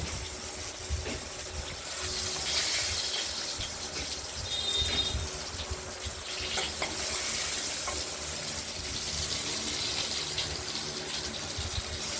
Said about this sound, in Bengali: তারপরে আলুটা ভাজবো